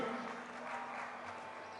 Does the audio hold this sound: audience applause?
yes